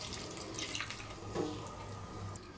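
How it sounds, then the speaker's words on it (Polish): Water is poured into a bowl of durum and wheat flour with salt and oil for pierogi dough, a quiet, close trickling stream heard alone for a couple of seconds. "Do tego woda."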